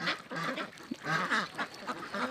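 Khaki Campbell and White Pekin ducks on a farm in Barpeta, Assam, give a burst of quick, overlapping quacks in close succession, loud and near with no talk.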